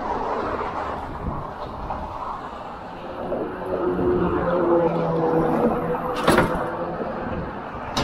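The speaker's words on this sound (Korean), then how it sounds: "야, 바람 장난 아니다." Strong wind buffets the microphone during a mountain bike ride across the Golden Gate Bridge, a continuous loud roar and rumble with traffic noise and a sharp gust or clatter near the end.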